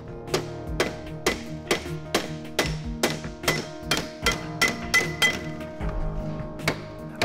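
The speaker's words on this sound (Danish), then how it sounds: "It's hammered together into a double welt." A hammer strikes a copper roof seam as it is folded into a double welt, giving a series of sharp, ringing metallic taps in a fairly even rhythm, about a dozen blows, close and clear.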